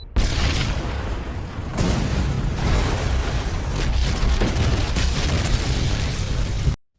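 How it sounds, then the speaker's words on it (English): A bomb destroys an entire building in a heavy, sustained explosion that roars for several seconds with rumbling bursts and crumbling debris, then cuts off abruptly. "the bomb explodes and destroys the entire building"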